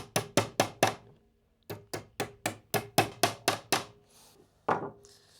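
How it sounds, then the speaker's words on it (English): Hammer taps panel pins into a wooden treasure chest: a quick run of five sharp knocks, a pause, then a longer run of about ten more taps, close and crisp with no talking. "let's just tap our panel pins in"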